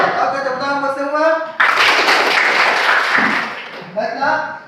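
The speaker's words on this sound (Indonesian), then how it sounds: "tepuk tangan buat semua" Classroom students clap in brief applause, a dense burst of hand claps lasting a couple of seconds, framed by a teacher speaking before and after.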